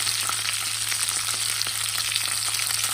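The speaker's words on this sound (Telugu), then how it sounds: "ఇంగువ కొంచెం బాగా దోరగా వేగిన తర్వాత కబాబ్ వేసుకుందాము" Tamarind and asafoetida fry in a pan with a steady, dense sizzle that runs unbroken and fairly loud from start to finish, with no talking.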